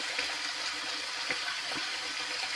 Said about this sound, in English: Cold water rinse now.